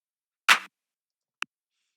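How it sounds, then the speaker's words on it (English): A tech house clap drum sample strikes once as a short, bright burst, followed a moment later by a tiny faint tick, with silence around both. "So I have a clap, which sounds like this."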